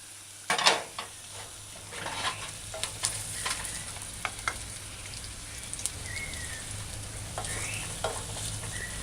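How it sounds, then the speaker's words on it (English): Scallions sautéed with shredded garlic in a stir-fry pan for a steak and vegetable dish make a low, steady sizzle. Scattered spatula scrapes and taps fall over it, with no voices. "add the scallion as well and saute the scallion"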